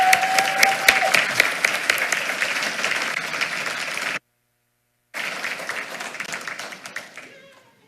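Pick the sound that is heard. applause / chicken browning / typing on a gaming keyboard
applause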